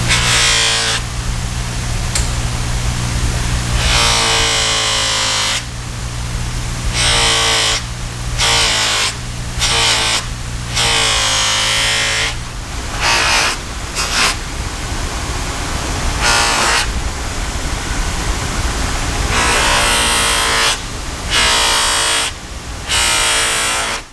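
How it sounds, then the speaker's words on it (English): A knife blade is buffed against a spinning spiral sewn cotton wheel loaded with fine compound, a loud whirring hum broken into repeated bursts as the blade is pressed on and pulled off. "Now I'll move over to the spiral sewn cotton wheel."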